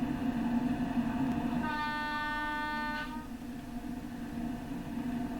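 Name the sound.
LNER Azuma Class 801 train horn in video game Train Sim World 4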